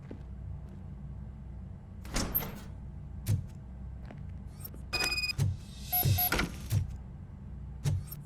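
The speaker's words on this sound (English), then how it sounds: "Now let me get that door open for you." A door opening in the video game RoboCop: Rogue City, heard as a few mechanical clunks and a short electric whirring slide over a steady low game-ambience hum, with no talking.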